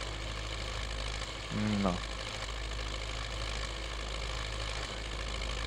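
An MTZ 82 tractor engine in a video game mod idles with a steady low drone, while someone speaks briefly over it and a short tonal blip cuts in midway.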